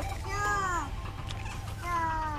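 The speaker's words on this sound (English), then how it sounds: "Cat wanna go to the other cat." A cat meows twice, close by and fairly clear, with a short gap between the two calls and a low steady hum underneath.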